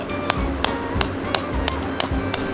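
A tent stake driven into the ground while a camping shelter is pitched: seven sharp, evenly spaced hammer strikes with a slight metallic ring, close and loud, one about every third of a second.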